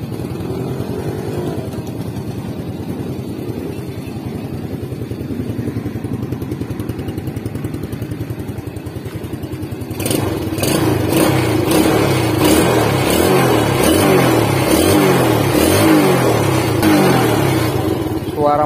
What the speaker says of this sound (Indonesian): Suara mesin tambah halus bosku ya